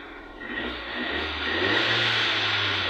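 A Ford EcoSport engine runs steadily after a cylinder one misfire repair, its low hum rising slightly midway as if revved gently, close and continuous with no talking.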